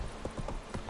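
Geralt's horse Roach in The Witcher 3: Wild Hunt gives a quick run of close, rhythmic galloping hoofbeats, about five thuds in under a second.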